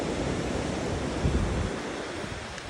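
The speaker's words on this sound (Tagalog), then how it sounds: "At kaya malalaki siguro ang alon dito" Steady roar of ocean surf at Luna, La Union, Philippines, after a storm, waves washing continuously, broadband and fairly loud, with some wind rumble mixed in and no voices.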